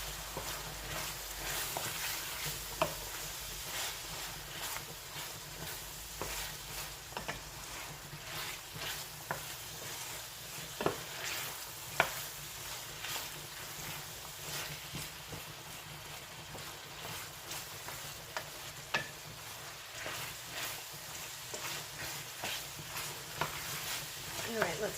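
Flour cooks in a pan for a shepherd's pie, giving a low, steady sizzle with scattered soft stirring ticks throughout, fairly quiet and close, and a voice speaks intermittently over it.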